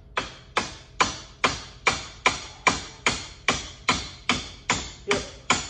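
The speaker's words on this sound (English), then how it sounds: "grab a hammer. Give it a couple taps." A hammer taps repeatedly on a bolt in the front leaf spring of a Club Car DS golf cart during a bushing replacement, about a dozen sharp, evenly spaced metallic strikes, close and loud, with no talking.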